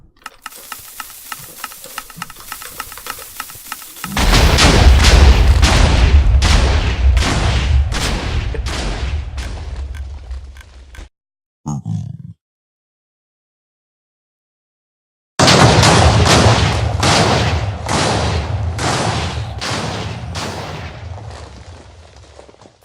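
A rapid-fire TNT cannon in Minecraft, loaded with 16 TNT per dispenser, sets off dense crackling bursts of explosions in a long loud barrage, then silence, a brief blast, and another sustained volley, with no talk.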